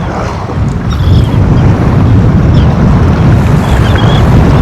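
Wind buffets the microphone over a reservoir below the Pa Sak dam while fishing from a boat, a loud rough rumble with waves washing underneath.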